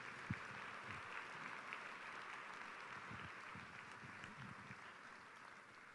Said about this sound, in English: Please join me in a round of applause for all of our students that won and distinguished their schools yesterday.